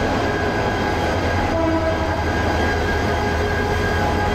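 A Hawr Express locomotive sends out a loud, steady rumble and drone with a sustained tonal horn layered over it, continuous and close.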